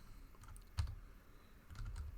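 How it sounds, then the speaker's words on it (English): A computer keyboard is typed on briefly and quietly, giving a few scattered soft key taps with one slightly louder press. "So let's type it here."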